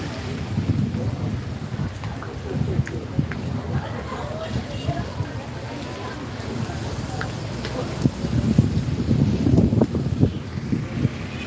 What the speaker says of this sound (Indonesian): ini sudah mulai hujan badai, sudah disertai angin ini